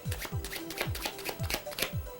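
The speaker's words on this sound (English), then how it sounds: "taking 12 cards, but one by one, doing the overhand shuffle." Playing cards are worked one by one through an overhand shuffle for a card trick, a rapid, regular train of papery slaps and swishes repeating about every quarter second, close and clear.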